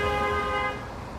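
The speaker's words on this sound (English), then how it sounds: "I honked my horn too." A car-style horn mounted on a bicycle sounds one sustained, loud honk while cycling through New York City traffic, then cuts off to street noise.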